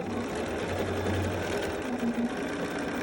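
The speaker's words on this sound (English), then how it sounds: "So I'm going to start sewing that corner." A sewing machine stitches across the mitered corner of a quilt binding, running with a steady, continuous mechanical hum and rapid needle chatter, close and even throughout, with no voices.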